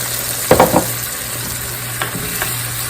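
Roast beef hash with potatoes and beef stock sizzles steadily in a pan, with a few brief scraping stirs near the start and a couple more later, over a constant low hum.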